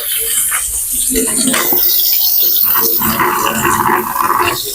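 Running water from a tap pours loudly onto red lentils in a pot, a continuous splashing rush with a voice speaking over it.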